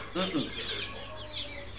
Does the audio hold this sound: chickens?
yes